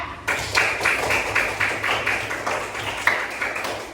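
Classroom clapping for a student group that just finished presenting, a small group of hands beating in a loose, fairly regular rhythm at moderate volume.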